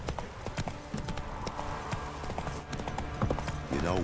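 A horse's hooves clip-clop at a steady gallop in The Witcher 3: Wild Hunt video game, rapid, close rhythmic thuds over ambient game sound, with a brief whinny-like rise near the end.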